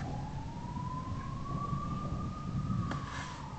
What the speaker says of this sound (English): A few ambulances or whatever dotting about.